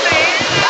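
Waterfall at Falls 1 in Bulinaw, Pangasinan, above a deep plunge pool: a steady, close, loud rush of falling water that fills the whole short stretch without pause.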